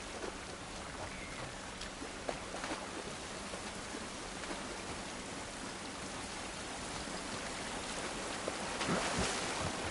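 Rain falls in The Last of Us video game, a steady hiss of drops under soft, wind-like noise for about ten seconds, with a few louder splashes near the end.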